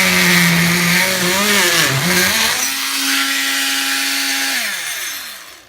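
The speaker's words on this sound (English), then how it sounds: "I'll be using the multi-tool here to cut these out" An oscillating multi-tool cuts wooden pieces for a shovel and rake rack. It is a loud, close, buzzing whine whose pitch wavers as the blade bites, then settles into a steadier drone and fades at the end.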